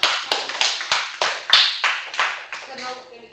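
A small group of people clapping in an indoor skit setting, a run of about a dozen sharp, evenly spaced claps that slow and soften toward the end.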